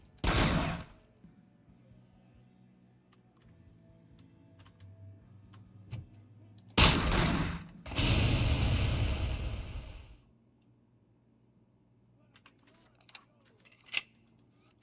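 Gunfire in the RoboCop video game: a short loud burst at the start, then a longer sustained rattling volley after a quiet stretch, with faint clicks and a sharp shot in between.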